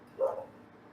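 Tiff, a dog, lets out a single short bark, faint and a little distant, over a quiet background.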